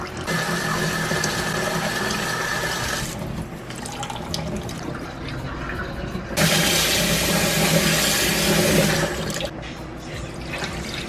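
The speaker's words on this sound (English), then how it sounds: "Just gonna wash that until the water runs clear." Long grain white rice rinsed in a pot under a running tap, water gushing and splashing in two strong bursts with a quieter stretch of swishing between them.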